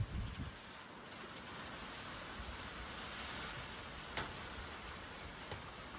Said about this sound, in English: Starting to rain, so I had to bring everything in for now.